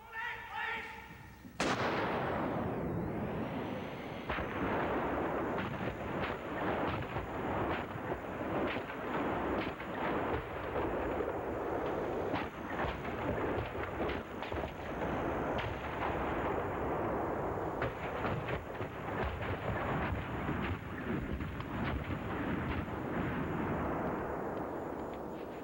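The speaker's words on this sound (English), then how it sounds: "A count on a VU meter seemed to indicate 24 explosions." A dense, sustained roar of overlapping gunshots and booming blasts, smeared and stretched out as if slowed down, continuing loud for about twenty-five seconds.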